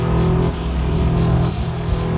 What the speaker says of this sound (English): Here I've got a square wave and the input of the guitar going into a filter.